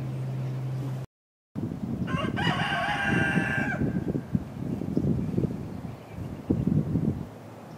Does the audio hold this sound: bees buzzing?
no